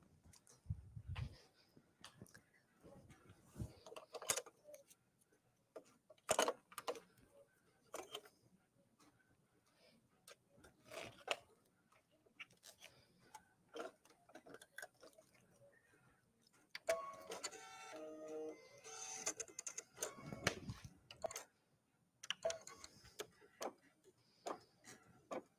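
An embroidery machine stitching a tooth fairy pillow, giving irregular mechanical clicks and taps with bursts of busier whirring, fairly faint and close, with no talking.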